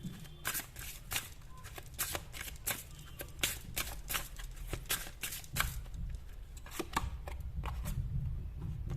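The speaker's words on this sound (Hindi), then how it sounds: "ये बड़ा मुश्किल हो जाता है शफल करना," Tarot cards are shuffled by hand in repeated quick riffles and slaps with an irregular rhythm, close and fairly soft, and a voice talks faintly in the background.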